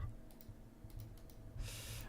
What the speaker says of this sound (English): I know my microphone picks up the clicking more when I'm not talking as loud